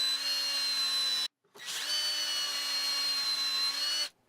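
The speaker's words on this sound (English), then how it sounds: "Then I loosen the drill guide, nudge it over, and drill out the first 2 holes." A power drill in a drill-guide jig whines steadily as it bores overlapping holes into wood, stopping briefly then running again for a long continuous stretch, close and loud.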